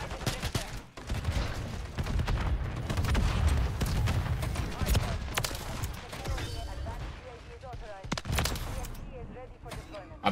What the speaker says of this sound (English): I'm just getting nade spammed right now.